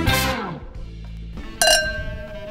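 Wine glasses clink together in a toast during a Czech talk-show interview, two bright ringing chimes, one at the start and a louder one midway, each decaying slowly, with a low murmur between them.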